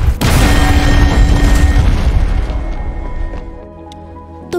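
A sudden loud crack as an ice sphere splits, bursting into a booming explosion that rumbles and slowly fades over several seconds, in an Avatar: The Last Airbender story.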